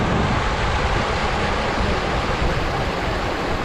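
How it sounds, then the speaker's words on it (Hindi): A river of clear water flows in Goa as a steady, loud, broadband rush of water, constant and close throughout, with no voices. "कल कल करती हुई नदी बह रही है, बहुत स्वच्छ पानी।"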